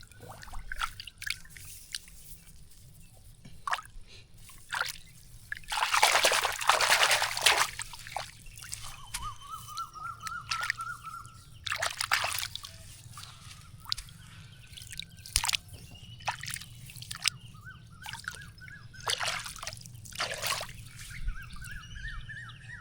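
Squelching, sloshing footsteps through mud and water in a paddy field, with irregular wet splashes and drips building and fading, some louder steps near the start, and birds calling faintly in the background.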